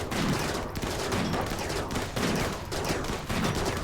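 Gunfire aimed at a tank in RimWorld, loud overlapping volleys of shots in several rolling bursts, steady and dense throughout with no speech.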